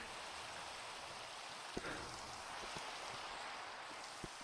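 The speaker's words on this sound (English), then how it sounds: "So the rain can go away." Faint, steady rainfall hisses in a VR video game, a soft even wash with a few isolated drop-like taps.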